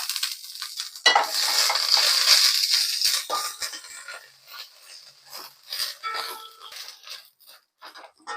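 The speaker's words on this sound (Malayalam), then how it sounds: "കറിവേപ്പിലയും കൂടി ഇട്ട് ആദ്യം മുളക് വറുത്ത് മാറ്റുക" Dried red chillies and curry leaves fry in oil for a mango pickle, a loud burst of crackling sizzle at first that settles into intermittent sputtering with occasional pan and utensil clinks, no speech.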